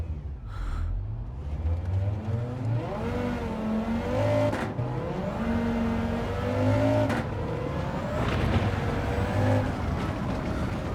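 A 788hp MK1 GTI with a 20-valve five-cylinder engine lapping the Nordschleife in Gran Turismo 7, revving hard and loud through repeated up and down pitch sweeps as it accelerates and shifts, alone without talk.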